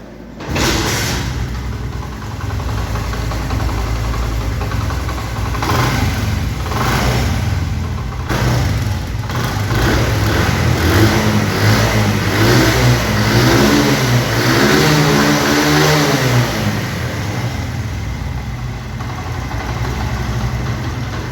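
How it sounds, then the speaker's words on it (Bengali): A 2008 Honda CD 80 motorcycle engine runs close by, idling and then revving repeatedly with rising and falling pitch, loud and alone with no talking. "এখন আপনাদেরকে গাড়ির ইঞ্জিনের সাউন্ড শোনানো হবে।"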